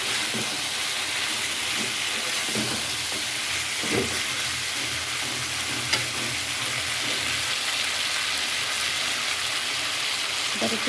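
Fried chicken pieces sizzle steadily in a cooked-down spice paste, a continuous crackling fry with a few soft stirring scrapes, close and moderately loud with no talking.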